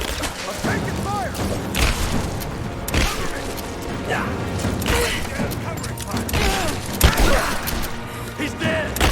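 Gunfire and combat noise in Rise of the Tomb Raider come in repeated sharp bursts and crashes, mixed with clattering impacts and shouting voices throughout, loud and busy.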